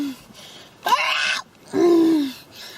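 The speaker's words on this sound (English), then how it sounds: "that's the sound of me trying to get in the car" A person groans and strains in two drawn-out vocal bursts while climbing into a car at a creek outing, the second groan lower and longer, heard close with no other talk.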